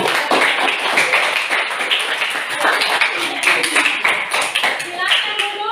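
Classroom applause for a student group after its presentation, dense steady clapping from many hands filling the room, with talk mixed in underneath.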